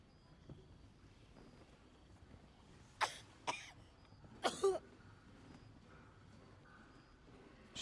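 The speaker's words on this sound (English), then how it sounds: "She got that cough in her lungs" A woman in a fantasy role-playing game coughs in a few harsh, separate bursts, a pair and then a rougher fit, against a quiet ambient background.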